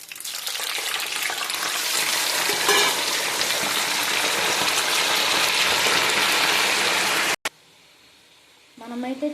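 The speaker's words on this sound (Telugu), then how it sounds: "గోల్డెన్ బ్రౌన్ ఫ్రై చేసుకోవాలి." Chicken deep-fries in hot oil for chicken pachadi, a loud, dense, steady sizzle and crackle that cuts off abruptly near the end, with a brief quieter stretch afterward.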